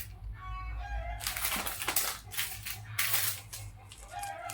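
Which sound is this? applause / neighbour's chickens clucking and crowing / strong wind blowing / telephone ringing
neighbour's chickens clucking and crowing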